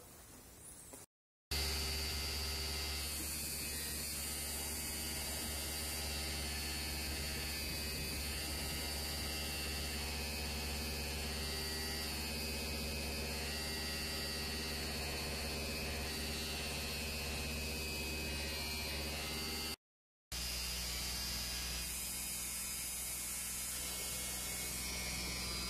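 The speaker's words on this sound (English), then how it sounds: "we were blowing that we didn't have enough air, and then when we had the air turned up a little higher, it smoothed out" Compressed air drives an air lift well, producing a loud, constant rushing hiss of blowing air and water that runs nearly unbroken, with only two brief dropouts.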